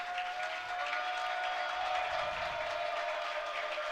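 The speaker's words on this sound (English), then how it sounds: "In the elder cheering section, trying to get loud, trying to get in this guy's head" High school crowd in a gym at an Elder boys' basketball game against Dayton Northridge, with the home cheering section loud during a late free throw, giving a steady, far-off roar of cheering and clapping.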